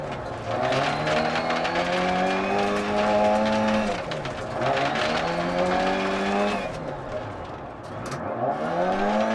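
A rally car engine in the DiRT Rally racing game climbs in pitch through repeated hard revs and gear changes, with about three rising shift cycles, tire scrabbling and skid noise over a gravelly background.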